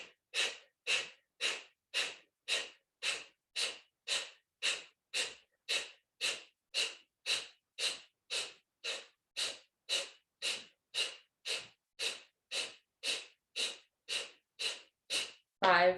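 Bikram-style Kapalabhati rapid breathing exercise: about thirty sharp, forceful nasal exhalations in a steady, even rhythm, each a short close puff, with no talking over them.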